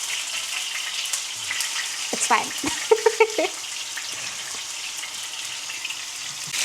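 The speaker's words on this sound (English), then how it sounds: "Okay, so it's boiling and frying." Potatoes and chips fry in hot oil beside a boiling pot on a home stove, a steady sizzle and bubbling with a few sharp splashes midway; a person speaks briefly.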